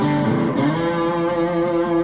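A three-string cigar box guitar played through a distortion effect sustains a thick, buzzing, overtone-rich chord that rings steadily and loudly for about two seconds before cutting off.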